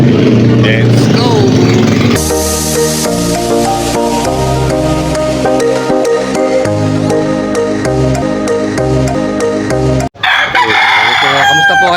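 Chickens and roosters crow loudly and repeatedly at a busy poultry pet market in Malolos, with clucking and traffic noise around them and a person talking nearby.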